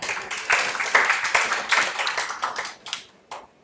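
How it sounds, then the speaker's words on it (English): Applause from an audience at a power-sector dialogue event: a dense burst of hand clapping that stays strong for a few seconds, then thins out and trails off into scattered claps. "Please, a round of applause for her"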